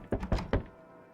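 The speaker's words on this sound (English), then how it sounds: "why are you banging on my door like that?" Three heavy, hollow thuds of someone banging on a wooden door in a creepy horror video game. The bangs come in quick, uneven succession, close and loud, and then fade into quiet.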